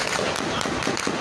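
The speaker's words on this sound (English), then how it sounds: "They are shooting at us. They are shooting." Gunfire rings out during street protests in Lagos, a burst of rapid, sharp cracks in a chaotic outdoor scene. The shots are loud and dense, mixed with voices in the background.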